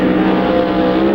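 A 1955 Chevy and a Chevy-powered 1937 Willys in a D-Gas drag race final in 1963, engines roaring loud and steady together at full throttle down the strip, a continuous dense drone.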